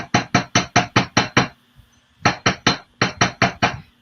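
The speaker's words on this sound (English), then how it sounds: "what hammering is doing, you guys, is it's hardening up those molecules in the wire" A metal hammer strikes wire to texture a handmade spiral brooch, giving sharp, evenly spaced close taps in quick bursts of about seven, three and four blows with brief pauses between.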